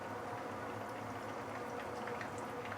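Ngor Hiang, five-spice pork rolls wrapped in beancurd skin, sizzling gently in a pan over very low heat, a soft, steady crackle and bubbling hiss that runs evenly throughout with no talking.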